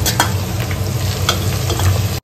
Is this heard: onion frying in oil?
yes